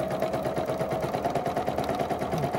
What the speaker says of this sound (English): run your machine at a moderate speed and just doodle